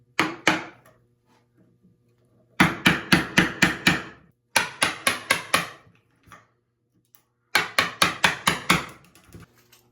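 A chisel is struck into wood to chop a mortise, sharp mallet blows landing in quick bursts of four to six with short pauses between, close and crisp with no speech.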